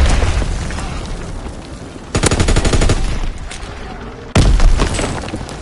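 Battle gunfire in a PS4 war game: sustained rattling automatic fire with heavy booms, two sudden louder bursts kicking in partway through, close and dense.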